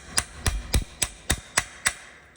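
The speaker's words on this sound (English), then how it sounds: "tap that pin over, loosen it a little bit more" A hammer taps a clutch pin on a Gen 5 Ski-Doo 850 snowmobile: seven sharp metallic knocks at a steady, even rhythm, close and loud, with no talking.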